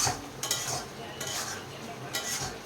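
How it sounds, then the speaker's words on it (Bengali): Masala spices sautéed and stirred in a pan, a low sizzle broken by a few bursts of spoon scraping against the metal, fairly faint and close, with no voices. "তাই মশলাটাকে আরও 5-7 মিনিট কষাবো।"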